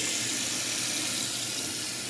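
Filtered water runs from a PUR faucet-mount filter in a steady, close hiss that splashes continuously into a sink for the whole stretch, with no talking over it.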